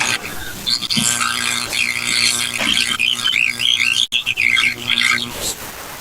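Loud, harsh 25,000-volt electric arc burning through insulation, crackling and buzzing steadily for several seconds, with a sputtering high hiss and a brief dropout near the end.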